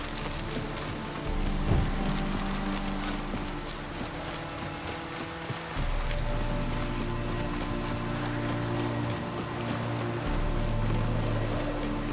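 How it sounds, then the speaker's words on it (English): Steady rain hiss in the video game The Witcher 3, a continuous wash of falling rain mixed with horse hoof clops and low ambient drones and music, no speech. "Rain again."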